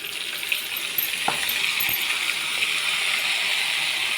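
Ground spice paste hits a frying pan of browned onions and fried potatoes, a loud, dense, steady sizzle with occasional faint clinks.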